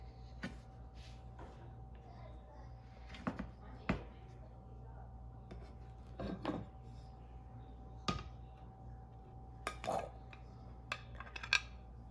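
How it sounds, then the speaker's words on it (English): A knife cuts into a strawberries and cream cake with scattered soft taps and clinks of the blade and plate against a steady low hum, close and quiet. "I'm gonna go ahead and cut into this cake so that I could show you the inside"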